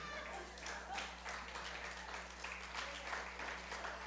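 Audience applause in a French-speaking gathering, fairly faint and steady, a continuous patter of clapping over a low constant hum.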